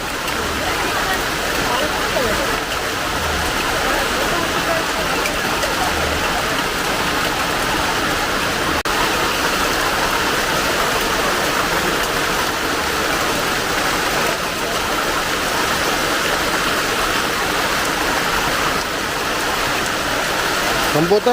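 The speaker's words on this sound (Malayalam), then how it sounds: "അടിപൊളി മഴ." Heavy rain pours steadily and close around a Kerala home kitchen, a dense, even hiss that holds without a break throughout.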